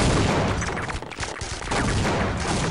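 Team Fortress Classic gunfire, a dense nonstop rattle of rapid shots and booms that briefly thins in the middle before resuming at full loudness.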